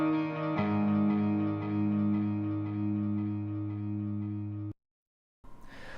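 Mixed bass, electric guitar and keyboard tracks run through a CLA2A optical compressor, sustained distorted chords holding an even, squashed level before cutting to silence, then a brief noisy tail.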